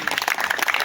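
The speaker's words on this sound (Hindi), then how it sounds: "आप लोग जोरदार तालियों से स्वागत करें" Applause welcoming guests at a village tilak ceremony: a dense, close burst of many hands clapping, steady and fairly loud for under a second, with no pauses.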